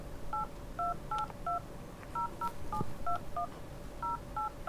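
Telephone keypad tones as a number is dialled, a quick run of about a dozen short, clear beeps in irregular groups, close and distinct with no talking.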